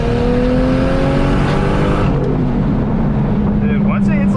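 A boosted Lexus IS300 engine revs hard under acceleration, its rising tone climbing steadily and then dropping sharply at a boost cut before building again, loud and continuous with a voice speaking over it.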